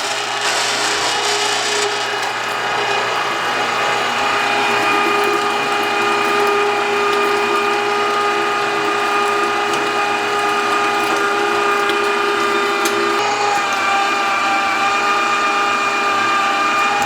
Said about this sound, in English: I am going to be using a foot pedal switch to operate my grinder